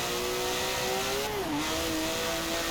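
Porsche 917 race car engine in Forza Horizon 4, a loud, steady high-pitched drone held at near-constant revs that dips briefly midway and then settles back, running alone without voices.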